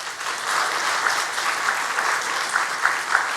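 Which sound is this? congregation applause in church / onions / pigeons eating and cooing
congregation applause in church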